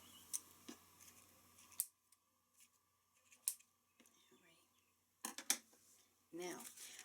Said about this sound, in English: let me grab my scissors here